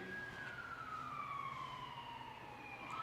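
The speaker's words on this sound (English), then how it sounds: "whatever is happening with this siren" An emergency siren outside a church during a service, wailing steadily with a slowly falling pitch and fading as it passes at a moderate distance.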